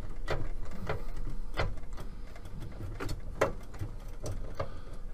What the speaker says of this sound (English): I'll take that corresponding screwdriver with the correct bit and we'll remove these screws that are holding it on.